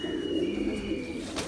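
Pigeon cooing nearby, a low, soft, rolling coo held steadily over a brief stretch, with faint background hum and no talking.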